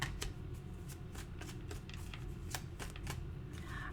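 Tarot cards being shuffled and drawn, a quiet run of soft riffling flicks and card snaps at close range, with no talking.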